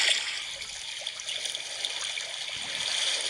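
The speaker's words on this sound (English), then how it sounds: "What about an evening lake?" Evening lake water ambience from a sleep sound app, a steady, soft wash of lapping and trickling water with no voices.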